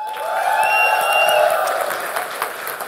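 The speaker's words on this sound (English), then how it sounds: "Let's have a big clap." An audience claps and cheers at a smartphone launch event for the Honor X9b, a broad, continuous wash of applause with a whooping tone riding over it, fading slightly toward the end.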